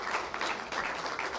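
An audience claps together at a tourism staff awards event, a dense, steady wash of hand claps filling the short moment without talk over it.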